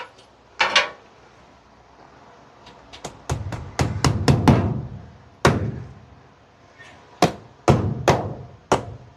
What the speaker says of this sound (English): It just sucks nailing upside down like this.